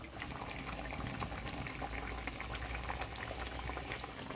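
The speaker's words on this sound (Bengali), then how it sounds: "বলক এসে গেছে, এবার সামান্য সর্ষার তেল দিয়ে নামিয়ে দিব" Bengali mustard pabda fish curry with green chillies coming to a boil in a pot, a steady close bubbling and gurgling that stays continuous and fairly quiet throughout.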